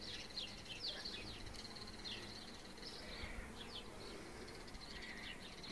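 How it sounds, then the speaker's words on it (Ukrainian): Faint honeybees hum steadily outdoors near a hive fitted with a pollen trap, with scattered bird chirps above the low drone. "Бджолки носять."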